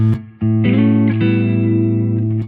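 Clean electric guitar notes ring out alone from a Gibson ES-335 through a Fender amplifier, a short plucked note followed by sustained chords with a warm, amplified tone and slight reverb.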